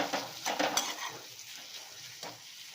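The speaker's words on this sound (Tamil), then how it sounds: "ஸோ அதையும் ஒரு பெரட்டிக்கிட்டோம்." Raw mango pieces sauté in a pan, a soft close sizzle with spoon scrapes and light clinks from stirring, louder at first and then settling to a quiet crackle.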